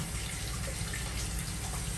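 Tap water runs steadily into a sink while items are rinsed under it, giving a close, continuous rushing splash with no speech.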